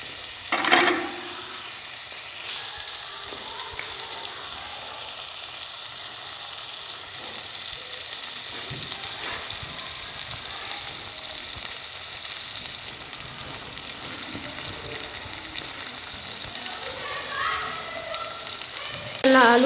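Potato curry (aloo bhujia) frying and simmering in a pan, a steady, close sizzle that holds at an even level with no talk.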